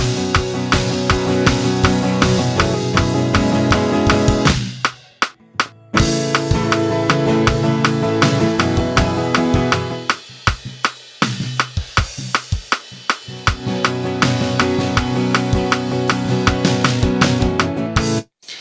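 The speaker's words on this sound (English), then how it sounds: "So this is going to be their instrument, this acoustic guitar." Acoustic guitar heard through an in-ear monitor mix, its low end thick and muddy, strummed loud and steady on its own with brief breaks around five and eleven seconds.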